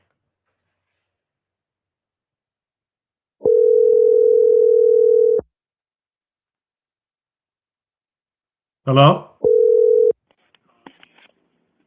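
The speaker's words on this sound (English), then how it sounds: "Let's call it back." A landline dial tone sounds in two steady bursts, about two seconds and then one second long, separated by a quick noise, with a voice speaking briefly near the end.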